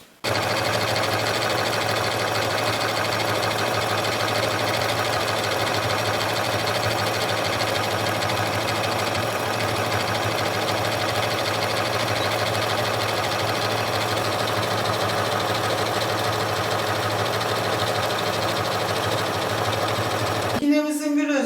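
A Janome MC 6700P electronic sewing machine stitches elongated decorative patterns with a steady, continuous motor whir and needle hum for about twenty seconds, then stops with a brief clatter at the end.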